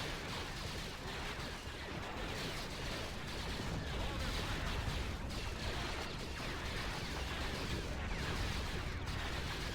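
Units in the Star Wars strategy game Thrawn's Revenge fire on a turret in a dense, continuous barrage of blaster and cannon shots. The battle noise is loud and unbroken throughout, with faint voices under it.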